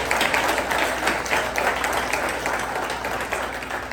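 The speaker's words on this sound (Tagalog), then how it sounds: "na palakpak si Lord." Sustained applause from a large church congregation indoors, dense and steady clapping that fills the whole stretch without pause.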